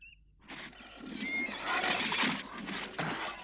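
A horse in an animated cartoon whinnies loudly and shrilly, a rising neigh that swells midway and ends with a sharp final burst, heard alone without speech.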